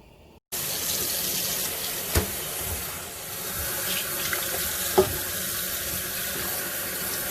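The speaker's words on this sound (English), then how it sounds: "Now I'm going to turn off the heat and rinse these bones very well" Soup bones rinsed under a running kitchen tap, water gushing steadily into the sink after a short quiet start, with a couple of knocks as the bones are handled.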